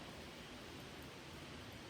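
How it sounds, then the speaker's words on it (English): Heavy rain pouring down outdoors on a farm, a dense, steady hiss of falling water with no breaks, faint and continuous with no voices. "just a downpour out here right now. Pouring."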